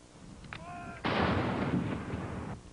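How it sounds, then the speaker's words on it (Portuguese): A ceremonial gun salute fired in Hyde Park, London, for the Queen's birthday, one heavy blast that rolls out into a long rumbling echo across the open park, preceded by a brief tonal sound. "Uma salva de tiros no Hyde Park de Londres marcou a data"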